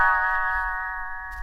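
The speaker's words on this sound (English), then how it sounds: "You will know it is time to turn the page when Tinker Bell rings her little bells like this." Tinker Bell's little bells chime once as a page-turn signal in a read-along storybook, a clear, bright ringing tone that sustains evenly and fades slowly, alone and without speech.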